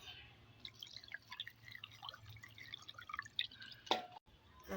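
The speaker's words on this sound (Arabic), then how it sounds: "واكمل الميه بتاعتها" Water trickles and drips into a jar of Kalamata olives topped with oil for brining, faint, close splashes with a louder pour near the end.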